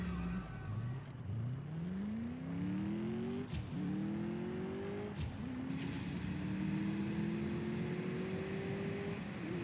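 Mercedes-AMG S 63 Coupe engine in the CSR2 racing game, revving hard with rising pitch that drops sharply at each gear shift, two clear shifts then a long climbing pull, loud and steady with no talking.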